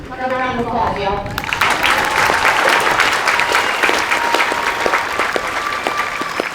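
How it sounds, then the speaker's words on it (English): Sustained audience applause fills a large hall at a US Air Force basic military training graduation ceremony, loud and steady after a brief spoken opening, with dense clapping and some crowd noise throughout. "Another round of applause, y'all."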